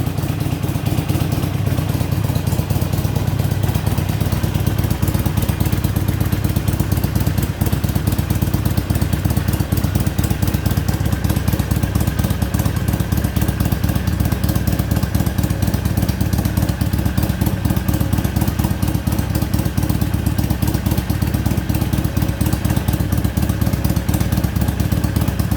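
A stock-exhaust 2014 Harley-Davidson Iron XL883N, warmed up, idles steadily and alone, with a continuous low, loping rumble and mechanical clatter held close and loud throughout.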